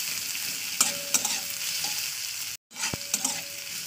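Carrot, egg and flattened rice fry in a pan, with continuous sizzling and repeated scraping stir strokes close up. A brief dropout interrupts the sound, and no one speaks.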